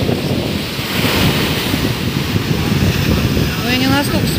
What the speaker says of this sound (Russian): И море волнуется.